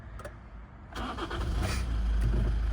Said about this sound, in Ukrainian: Все, заводиться дуже чітко.